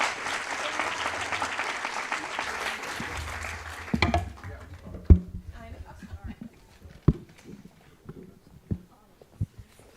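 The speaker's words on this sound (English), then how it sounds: "a round of applause" Audience applause at a climate change symposium, a dense sustained clapping from a crowd for the first four seconds, then thinning into scattered claps and light hall noises.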